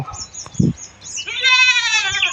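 Goats and young goat kids on a farm herd bleat in a long wavering harmonic call that rises and holds near the end, preceded by a short low grunt and faint background noise.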